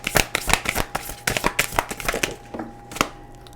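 Tarot cards being shuffled and drawn, a run of sharp papery slaps and riffles in an uneven rhythm, close and fairly loud with no talking.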